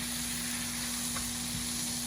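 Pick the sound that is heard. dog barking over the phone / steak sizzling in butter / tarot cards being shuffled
steak sizzling in butter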